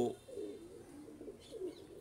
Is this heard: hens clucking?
no